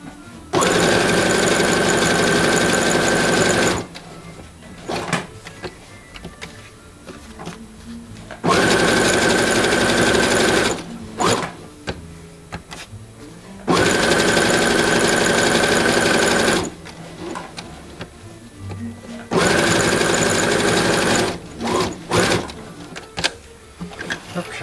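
A sewing machine stitches denim onto fabric for an earbud case, loud rapid mechanical bursts lasting about three seconds each, four runs separated by pauses with handling clicks and brief talk between them.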